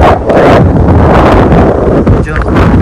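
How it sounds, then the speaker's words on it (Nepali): Cold wind buffets the microphone on a mountain temple trek, a loud continuous rumbling roar with gusty swells throughout and no speech. "हावा चिसो चलिरहेछ"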